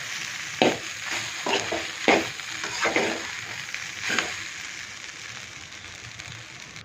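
Homemade fried rice is stirred in a pan over a steady frying sizzle, with several louder scraping strokes of the spoon against the pan near the start, close by and with no talk.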